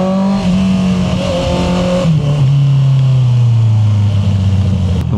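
A Honda CB650R E-Clutch big bike revs hard inside a tunnel, loud and close, its engine note holding high before settling into a lower, steady drone that echoes off the walls.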